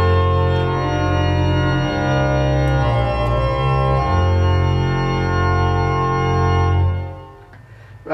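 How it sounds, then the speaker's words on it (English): Hauptwerk virtual pipe organ sounding with even more stops drawn, a loud, dense sustained tone with heavy low pedal notes and shifting chords before a quick release near the end. "We can pull even more stops and get a louder sound."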